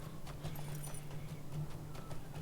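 Goat mount trotting in the video game Lord of the Rings Online: a steady clip-clop of hooves repeating at an even pace over a low continuous hum, with no talk.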